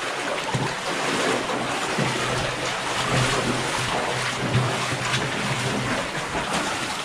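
Water pours and spills through a flooded mine tunnel, a continuous, loud rushing wash that fills the space evenly with no voices.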